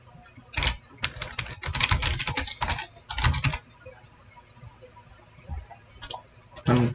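Brisk clacky typing on a wireless keyboard modeled after the Model M, coming in loud bursts of keystrokes with short pauses, then a few isolated clusters of keypresses near the end.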